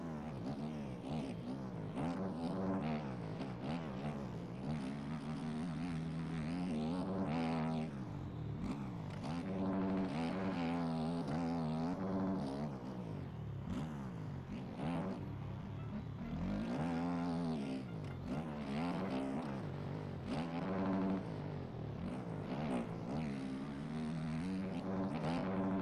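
A motocross race bike engine revs hard and continuously while held in third gear through choppy ground at a national race, its pitch rising and falling in steady surges, loud and close throughout.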